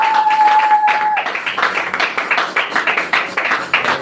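A church congregation claps and cheers for the Lord, with steady massed applause in a quick rhythm, loud and continuous, with a voice heard early on.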